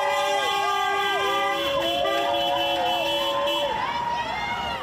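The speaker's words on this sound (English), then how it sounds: "as you can hear by the honking" Several car horns honk in overlapping, sustained blasts in support of striking restaurant workers in Winnipeg, loud and close, layered over street traffic noise.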